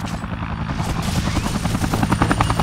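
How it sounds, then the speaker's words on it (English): A helicopter in the video game Dead Rising Deluxe Remaster thumps with a close, loud, continuous rotor chop that fills the whole stretch without speech. "Where the hell's this helicopter?"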